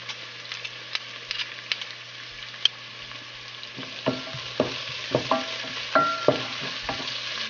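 Onions, garlic and spices sizzle steadily in a pot, with a run of distinct scraping stirs that grows busier and more regular in the second half, close and moderately loud with no talking.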